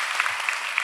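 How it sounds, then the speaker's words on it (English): A brief burst of audience applause for a graduating class at a commencement ceremony, steady clapping from a crowd. "I just want to give another round of applause to the class of 2026."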